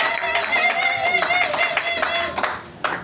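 A church congregation breaking into rhythmic clapping in praise, many hands striking together under loud singing or shouting voices, with a sharp final clap at the end.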